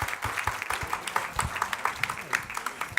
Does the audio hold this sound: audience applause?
yes